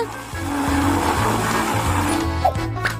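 An ice cream machine churns vanilla ice cream with sugared doughnuts, its motor droning in a steady, loud whir with rhythmic low pulses and occasional clanks, running alone without voices.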